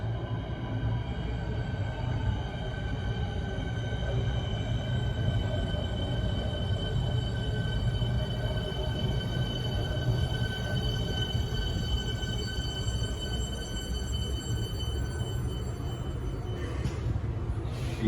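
A Metro Siemens electric train rolls into Parliament Station, a steady loud rumble of wheels and motors filling the platform, with faint high whine tones and a brief metallic squeal near the end.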